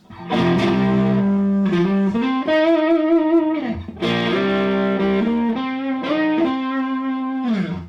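A distorted electric guitar, an Epiphone Les Paul 1960 Tribute Plus with volumes and tones full and push-pull pots out, plays sustained chords and notes, thick and saturated, with a brief break midway before ringing on.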